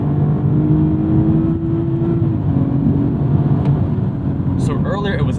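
A 2018 BMW 230i engine revs during an acceleration pull, a loud, continuous drone from inside the car that climbs steadily in pitch, with a brief noise burst near the end.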